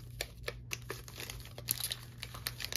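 Pokémon TCG card packs are shuffled by hand at close range, giving quiet crinkly foil rustles and soft rapid taps over a low background hum.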